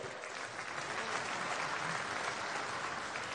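An audience at the 2018 Hainan International Film Festival welcomes a film directors' association official onto the stage with continuous, even applause, heard from within the hall and moderately soft.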